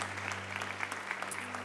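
Congregation clapping at a church service of Comunidade Livre in Niterói, a steady, fairly faint patter of hands held at an even level throughout with a low hum underneath.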